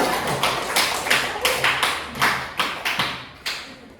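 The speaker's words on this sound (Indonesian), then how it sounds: "Beri tepuk tangan untuk kelompok 3" Children in a primary school classroom applaud a group, giving a short run of roughly rhythmic, fairly close claps that fade near the end.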